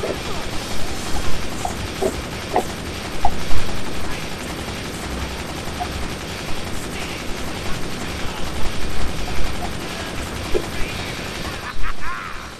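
A missile launcher fires in the video game Brutal Legend. Repeated punchy bursts and blasts cut through a busy, continuous battle din, with voices breaking in at times.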